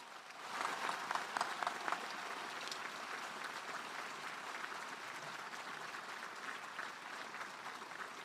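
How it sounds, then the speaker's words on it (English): A large crowd at the Quincy High School 2022 graduation in Flinn Stadium applauds, a steady, somewhat distant wash of many hands clapping that holds evenly throughout. "please give them a round of applause"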